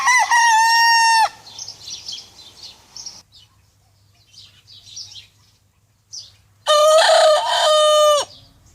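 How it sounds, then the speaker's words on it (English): A young, immature rooster crows twice, each crow loud, close and slightly ragged, with a few soft clucks and a quiet pause between them. "At first, their crowing is quite immature."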